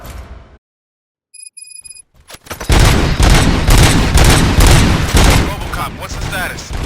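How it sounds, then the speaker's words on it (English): A sudden loud burst of rapid gunfire in the video game Robocop: Rogue City on PS5 erupts after a brief beeping tone, sustained shots rattling on with heavy low-end booms. "Gunshots? What's going on?"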